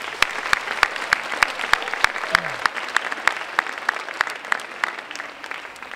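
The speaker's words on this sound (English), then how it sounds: "let's give them one more round of applause" Audience applause at a youth track awards ceremony, steady clapping lasting the full stretch with sharp individual claps standing out over a dense, even patter, fairly close and moderately loud.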